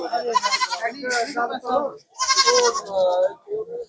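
Goats bleat loudly and repeatedly up close at a market, several wavering calls in quick succession.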